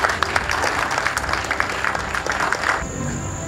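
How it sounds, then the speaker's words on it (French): A youth audience at a political meeting breaks into loud, sustained applause, a dense wash of clapping that holds steady for about three seconds before cutting off. "je veux encore une fois que vous vous applaudissiez très fort"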